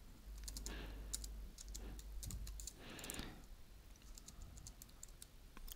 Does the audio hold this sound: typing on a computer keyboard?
yes